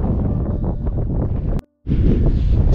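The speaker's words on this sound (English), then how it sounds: "So it's quite windy up here" Loud, buffeting wind roars across the microphone on a hilltop in Ashover, North East Derbyshire, cutting out briefly to near silence before rumbling back in.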